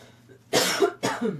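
Two harsh coughs in quick succession, close and fairly loud, after a moment of quiet.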